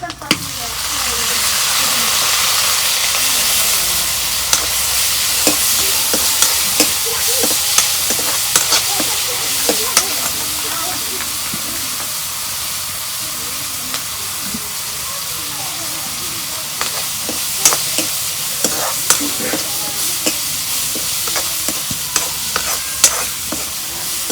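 Steady, loud sizzling of dried fish frying in hot oil, a dense hiss with occasional crackles and pops throughout.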